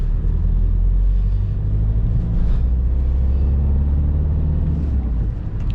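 A 2005 VW Golf Plus with a 1.9 TDI diesel engine and 195,000 km on it, heard from inside on a test drive as a steady low engine rumble and road noise, loud and continuous.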